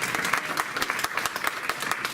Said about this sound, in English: I want those hosts that we saw on the TV to stand up so we can give them a round of applause